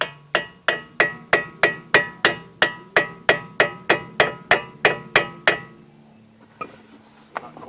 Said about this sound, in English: I'm going to take the hammer, I'm actually going to gently squeeze these into place here.